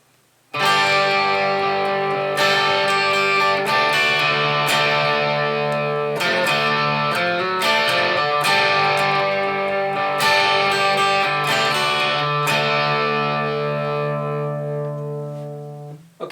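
Distorted electric guitar plays the intro of a song, loud ringing chords struck in a syncopated rock pattern and left to sustain, with no other instruments and steady volume throughout.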